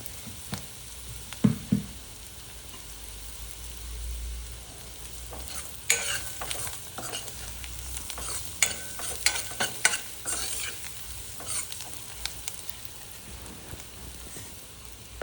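Capsicum sautés in a pan, a steady sizzle broken by repeated scraping and clattering as a spoon stirs, busiest in the middle stretch, close and with no talk.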